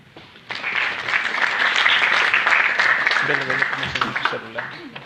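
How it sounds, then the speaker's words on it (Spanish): Audience applause at a geology conference: steady clapping from a room swells quickly and holds for several seconds, with a voice speaking over the tail as it fades. "por favor aplausos para el magíster Osmo Poma"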